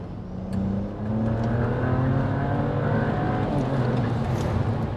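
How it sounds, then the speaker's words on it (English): BMW 335i with the N54 engine pulling hard under throttle, a steady, loud engine drone with rising harmonics heard from inside the car, no talking. "We'll do a bit of a pull on this one."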